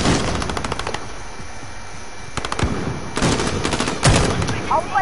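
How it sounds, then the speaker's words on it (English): Rapid bursts of automatic gunfire in a shooter video game, several loud volleys crackling close by in quick succession over a steady background din. "we're getting shot at!"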